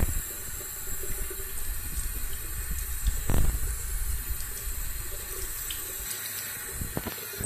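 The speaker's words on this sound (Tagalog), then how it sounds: "basahin mo ulit ng tubig." Running water splashes steadily close by as a face is rinsed, with a sharper splash burst midway and a few more near the end.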